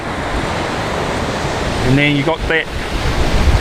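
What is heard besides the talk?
ocean waves breaking on a beach surf gutter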